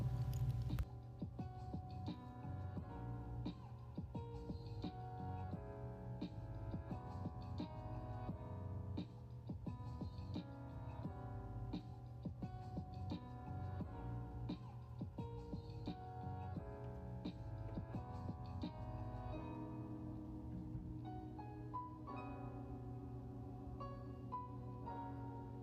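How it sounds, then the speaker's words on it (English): Electric nail drill with a cuticle bit removing cuticle from the nail plate while doing a dip fill with regular acrylic powder, a steady tonal whine with pulsing, faint and continuous throughout. "I'm just using my cuticle bit, and this removes all the cuticle on the nail plate"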